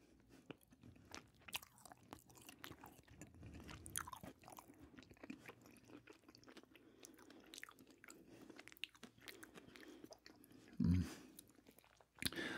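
Little Debbie brownie snack cakes are eaten close to the microphone, with soft, moist chewing and small squishy bites in a steady rhythm and a louder bite near the end.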